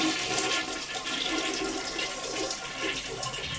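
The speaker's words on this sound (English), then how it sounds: "Yep, that is the sound of a toilet." A toilet flushing close by, with a loud, continuous rush and gurgle of water that holds steady throughout, with no voices.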